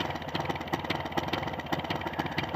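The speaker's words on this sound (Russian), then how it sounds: "такие минимальные холостые для вновь собранного двигателя, который еще только на обкатке" A newly assembled Jawa 634 motorcycle engine, still being run in, idles at very low revs with a steady, fast mechanical putter and light clatter, close and fairly quiet with no talk.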